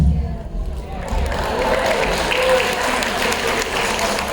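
An audience at a morning chemistry show on Picnic Day breaks into applause and cheering, a dense burst of clapping that rises and carries on under nearby talking.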